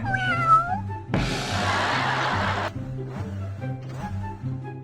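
Cartoon cats in the racing game Speed Drifters meow several times in high, bending cries, cut by a loud burst of rushing noise in the middle, all over looping game music with a steady beat.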